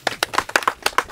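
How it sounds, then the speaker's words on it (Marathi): Audience at a farming talk clapping briefly for a question, a quick run of about eight sharp, close claps at an uneven tempo with no voices. "टाळ्या वाजवा यांच्या प्रश्नासाठी"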